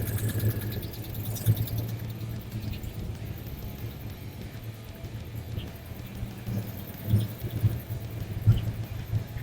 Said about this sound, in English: she's sitting there idling after 20 years just sitting around.